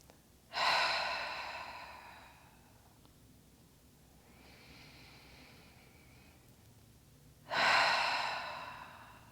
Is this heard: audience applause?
no